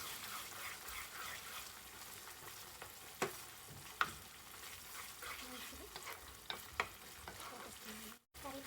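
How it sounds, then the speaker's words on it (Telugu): Cumin and coriander powder being stirred in oil in a frying pan, a soft steady sizzle with occasional sharp scraping clicks of the spoon against the pan. "ఒక హాఫ్ స్పూన్ జీరా పొడి అలాగే ఒక హాఫ్ స్పూన్ ధనియాల పొడి వేసేసి బాగా కలుపుకొని"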